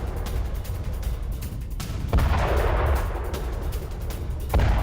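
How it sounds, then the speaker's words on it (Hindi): Heavy artillery fire and bombardment in southern Lebanon, with repeated deep booms and blasts rolling over a dense, noisy background, loud and fairly continuous across the stretch. "दक्षिण लेबनान के चेबा में भारी बमबारी की है इजराइल ने।"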